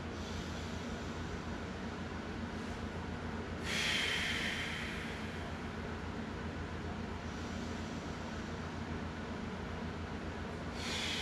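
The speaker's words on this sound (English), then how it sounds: "About 3 deep breaths." Slow deep breaths while lying flat on the floor resting between yoga exercises, with a long audible exhale swelling in the middle over a steady low background hum, no talking.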